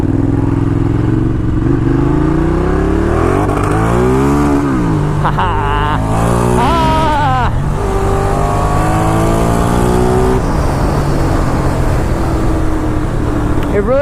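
A Ducati Diavel cruiser motorcycle accelerates hard, its engine note climbing through several gear changes, loud and close from the rider's position, with wind roar underneath.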